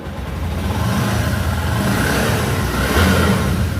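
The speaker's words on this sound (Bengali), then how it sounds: "গাড়ির সাউন্ড কোয়ালিটি দেখুন" A car with about 8,215 km on it has its engine revved, producing a loud, continuous, close-up roar that holds steady with a slight swell near the end, with no talking.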